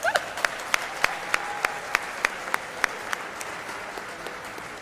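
Audience applause at the closing ceremony of the Christof Heyns African Human Rights Moot Court Competition 2023, a steady patter of many hands with sharp individual claps standing out at a regular pace, fading toward the end.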